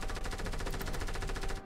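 Rapid automatic gunfire from the Fortnite video game rattles in a fast, steady burst, loud and close, filling the whole moment with no voices over it.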